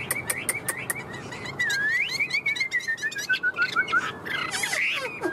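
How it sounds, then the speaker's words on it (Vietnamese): A pet Chinese hwamei (họa mi) songbird sings in a cage: clear, loud, close whistled phrases with rapid chirps, a long sliding warble in the middle, then busy trills at the end. "Bao hót cho các bác luôn nhá"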